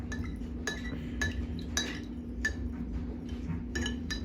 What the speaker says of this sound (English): keep stirring it until it does mix as best I can